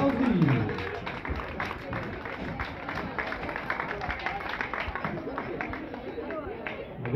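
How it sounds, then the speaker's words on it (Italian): Applause and cheering from a crowd at a regional women's cycling race, spread and moderately distant, with steady clapping and chatter running under a loud announcer's voice. "Valcar, applausi pubblico, applausi."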